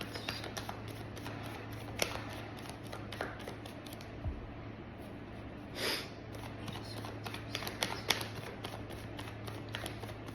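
Tarot cards being shuffled by hand, a steady soft riffling and sliding of cards with occasional sharper taps, close and continuous with no speech.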